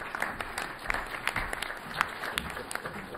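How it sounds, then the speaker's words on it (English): Audience round of applause at a convention presentation, a dense steady wash of many hands clapping in a hall, moderately loud and continuous for a few seconds with no talking. "I presume the round of applause was for the Connemara Marathon"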